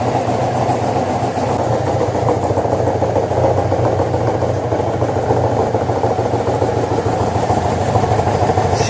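A motorcycle engine idling steadily while its carburetor float bowls and fuel line drain during winterizing, a loud, continuous low rumble with an even rhythm throughout, no speech.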